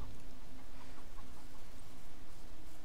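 Chickens in the video game Wasteland 2, soft scattered clucks over a steady background hiss, faint and close together.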